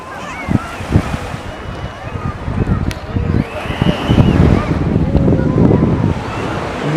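Sea waves wash onto a sandy beach at Ain Sokhna, a continuous surf rush that swells louder toward the end, mixed with wind on the microphone while someone talks over it.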